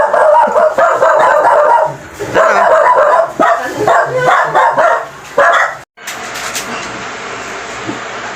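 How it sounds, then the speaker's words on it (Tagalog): Several dogs bark and yip repeatedly, loud and close, in overlapping bursts, with a whimper or two before the noise drops to a quieter background. "Mga aso lang sila."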